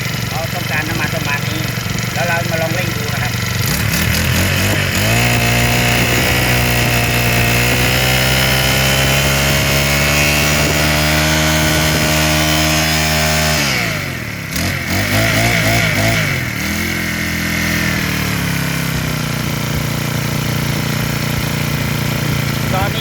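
A four-stroke engine, freshly rebuilt, idles and is revved up, its pitch climbing and holding, then dropping briefly before picking up again, loud and close with a mechanic talking over it.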